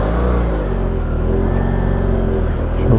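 A 2017 BMW F800 GS motorcycle accelerates hard to overtake a truck, its engine droning loud and close with steady harmonics under rushing wind, no talking.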